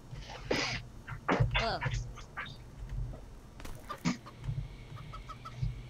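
A chicken-cat creature in the CHKN video game makes clucking, quacking bird calls, several short bursts scattered over a low background hum, with some bleeps alongside.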